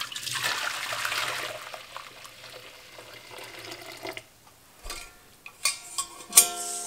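Liquid, warm whey or curd mixture during homemade mozzarella making, poured into a colander, heard as a steady trickling splash for a few seconds, then fading into scattered clinks and handling noises.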